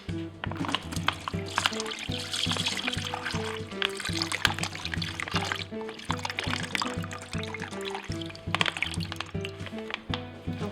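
Water is poured steadily into a bucket of binder powder for mixing, a continuous trickle and splash that lasts throughout. Music plays quietly underneath.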